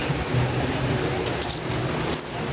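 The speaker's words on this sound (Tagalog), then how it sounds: "May mga barya ako dyan." Coins clink and jingle in a hand or small stash, a few bright metallic rattles over a steady background hum, close by and with no talking.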